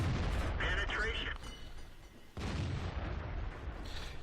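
Tank cannon fire in a World of Tanks match, a heavy boom near the start and another around two and a half seconds, set in dense game noise with a voice talking over it.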